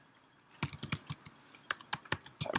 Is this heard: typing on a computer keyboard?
yes